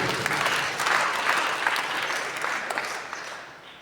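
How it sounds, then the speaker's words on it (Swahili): Church congregation claps for Jesus during a service, a full, dense round of applause that holds steady and then slowly tapers off. "Tumpigie Bwana Yesu makofi."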